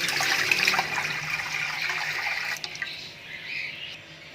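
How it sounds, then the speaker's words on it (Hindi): Water pours steadily into a large cooking pot, a continuous splashing stream that tapers off partway through, leaving a quieter trickle near the end. "यहाँ पे मैंने एक बड़ा पतीला लिया है, इसके अंदर हम 1 लीटर के करीब पानी डालेंगे।"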